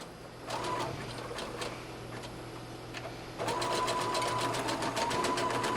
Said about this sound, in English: I'm going to zigzag stitch this elastic several times across to secure it in